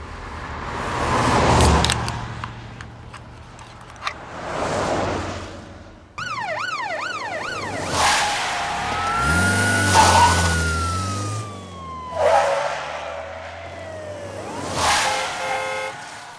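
Police cars with wailing sirens in an old film set in Bradford's Little Germany, loud rising and falling siren sweeps over engine rumble, several passes coming and going with no talk.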